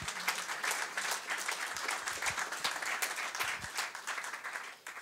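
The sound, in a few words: congregation applauding the Lord in church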